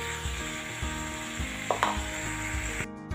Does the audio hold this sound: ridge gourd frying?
yes